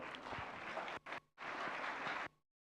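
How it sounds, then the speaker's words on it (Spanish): A church congregation at a Bible seminar applauds, fairly faint, in two stretches of dense clapping with a brief break, then stopping abruptly into silence. "Fuertes aplausos, por favor."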